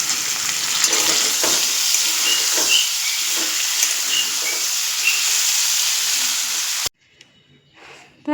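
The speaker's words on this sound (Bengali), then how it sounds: "আলু ভাজা হচ্ছে।" Potatoes frying in a home kitchen pan for a curry, a steady dense sizzle with occasional stirring scrapes, close and loud for about seven seconds before it cuts off to near silence.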